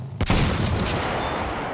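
Machine gun fire in Battlefield 1, a sharp crack opening into a sustained dense roar of shots close by, with no talking.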